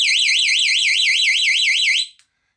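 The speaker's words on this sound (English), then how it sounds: "you can signal for help with the alarm" Loud alarm from a rechargeable 4-in-1 LED work light with SOS red strobe, a piercing electronic siren warbling rapidly up and down in a steady repeating sweep, then cutting off abruptly with a brief final chirp.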